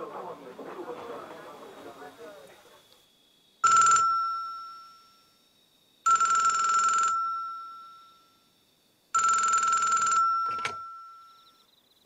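A telephone rings in three long, loud electronic bursts separated by pauses, heard alone after a brief stretch of low background sound.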